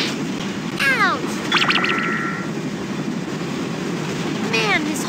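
A steady rumbling rattle of a train in a PowerPuff Girls PC game runs throughout, overlaid with sweeping whistling game effects and short tonal blips.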